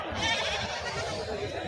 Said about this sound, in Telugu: మేకలు